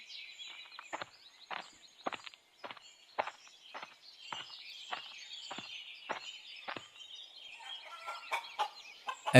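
Cartoon farm chickens make a run of short, sharp clucks and gobbling calls, evenly spaced and fairly close, growing busier and more overlapping toward the end.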